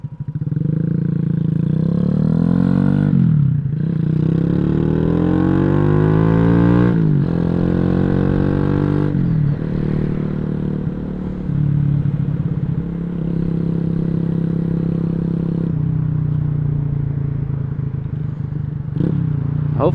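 A Boom Vader 125 motorcycle being ridden, its engine close and loud, rising in pitch through repeated gear changes, then settling to a steady cruising drone with wind noise.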